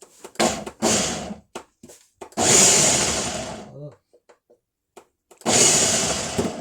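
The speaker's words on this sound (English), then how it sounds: "So here's my Ninja. I'm about to blend it. I'll pulse it a little bit." A Ninja blender pulses ingredients for Peruvian green rice in loud whirring bursts, two short pulses then longer runs, separated by quiet pauses with occasional talking between.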